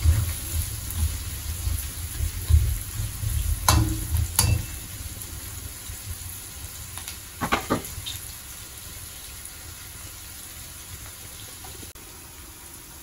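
Onions for a chicken curry fry in a pan with a steady close sizzle, broken by a few sharp scraping or stirring clatters early on, with no voices.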